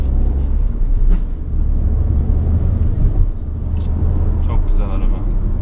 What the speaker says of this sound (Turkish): Motor sesi çok güzel geliyor.